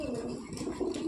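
Old pigeons cooing softly in short, throaty, murmuring calls close by, heard alone without talk.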